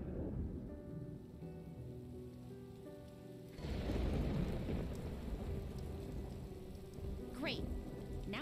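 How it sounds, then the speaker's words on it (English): Steady rain pours down in a scene from the animated series RWBY Volume 9, swelling louder midway into a heavier downpour with a low rumble of thunder beneath, and a few brief sweeping tones near the end. "Now it's raining on just us."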